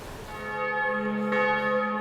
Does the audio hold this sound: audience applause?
no